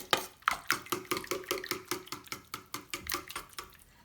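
Yogurt cake batter with lemon zest is beaten in a bowl, a close run of rhythmic repeated strokes and clinks of utensil against bowl, roughly four per second, with no voices.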